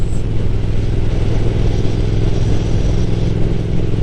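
Motorcycle fitted with an Arrow Nichrom Pro-Racing exhaust silencer, its engine running loud and close in a steady, throaty low rumble with slight rises in revs, no voices.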